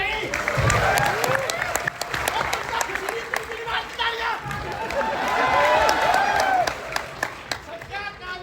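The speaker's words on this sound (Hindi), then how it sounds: "तालियां मारो सभी भाई" Students at a campus event burst into loud, dense clapping mixed with cheers and crowd noise, sustained across the whole stretch with voices over it.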